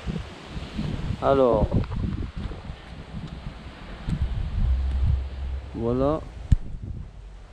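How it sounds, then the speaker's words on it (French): Wind gusts through garden trees on a November day, a steady rushing and rustling with someone talking briefly over it. "il y a du vent mais ça va."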